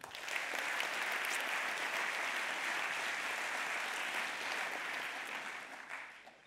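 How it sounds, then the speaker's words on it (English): Applause from a tech conference audience at an opening keynote in Nantes, steady dense clapping that carries on evenly for several seconds before fading slightly. "Merci de les applaudir."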